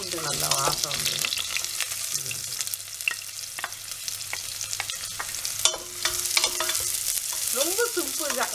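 Garlic frying in a pan for paneer pulao, with a steady close sizzle and repeated scraping and stirring clatter from a spoon against the pan, running on alone with no talk.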